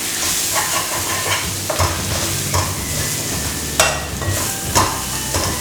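Coriander powder and half a teaspoon of garam masala are stirred in a frying pan, a steady scraping and shuffling over a low sizzle, with several sharper clanks of the spoon against the pan.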